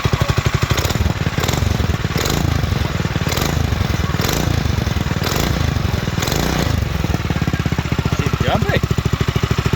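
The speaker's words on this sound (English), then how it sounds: "that's what it sounds like with the muffler on it." A kids' Chinese 125 ATV converted to a Predator 212 engine runs with its muffler fitted, producing a loud, close, steady chugging idle throughout, with someone talking over it.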